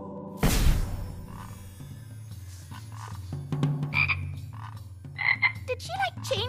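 A cartoon frog croaks several times in quick succession after a sharp whoosh at the start, with bright squeaky croaks up close and no one speaking.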